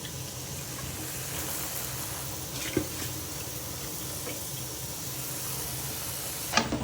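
Leafy greens hitting a hot cooking pan and being stirred, a steady soft sizzle and wet hiss running throughout with a couple of brief clinks, no talking.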